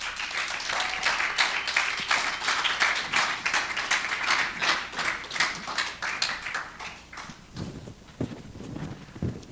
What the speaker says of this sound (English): Faye, I think you really deserved this applause.